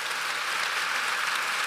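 Dense audience applause, a steady wash of many hands clapping at an even level for under two seconds, with no voices over it.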